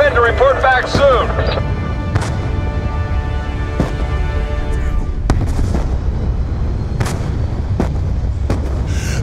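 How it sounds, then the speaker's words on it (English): Mortar fire in Call of Duty Black Ops 2 during a desert battle, a few scattered booming impacts and sharp blasts spread over the stretch, with a voice and musical tones at the start. "The mortars have stopped!"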